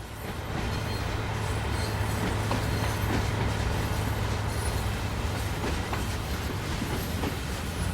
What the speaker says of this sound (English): we can probably safely give it all the beans with this enormously powerful little locomotive